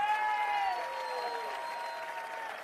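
Applause from the audience at the closing ceremony of the JIJ Athens 2024 in Grammatiko, Greece, for the René Cassin de Bayonne school team: a soft, distant patter of clapping running under a sustained, gliding tonal sound that slowly fades.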